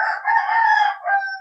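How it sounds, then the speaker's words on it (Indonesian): A rooster crows in a small village, one long clear drawn-out call heard up close and alone, with no other sounds around it. "Suara kokok ayam jantan menyambut kedatangan saya."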